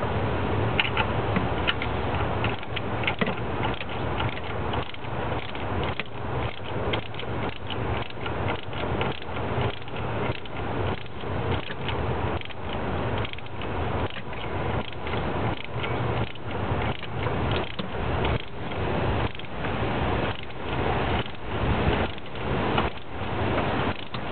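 Ratchet snugging down bolts during an intake install on a 2007 Ram with a 5.9 Cummins engine, a steady rapid clicking in repeated bursts that carries on for the whole stretch at close range.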